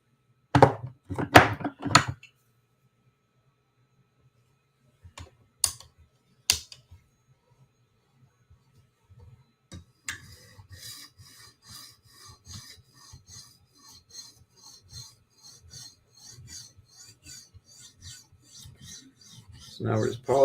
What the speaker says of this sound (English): So now we're just polishing it up to an extra shiny mirror.